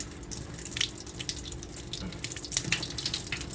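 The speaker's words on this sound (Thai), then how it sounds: "เนี่ยค่อย ๆ เอาน้ำล้างมัน" Water runs from a tap while scallops are rinsed by hand, a continuous soft splashing flow with small irregular splashes and drips, close but fairly quiet.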